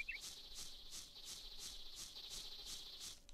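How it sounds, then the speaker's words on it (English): Cicada in the video game Moon: Remix RPG Adventure, chirping in a fast, regular rhythm of bright, buzzy pulses, about three per second, close and clear with nothing else over it. "Oh, I hear a cicada."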